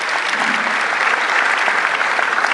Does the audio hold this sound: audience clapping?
yes